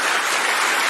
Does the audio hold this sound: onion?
no